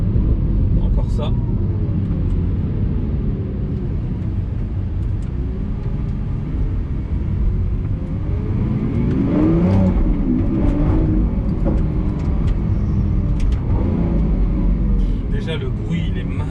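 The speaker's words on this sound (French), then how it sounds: "C'est ça que j'adore avec leur V12 atmosphérique. Ils ont un bruit qui est juste fabuleux." Lamborghini Aventador SVJ with its naturally aspirated V12, a loud, steady engine roar on the road that swells and revs around the middle, constant and close throughout.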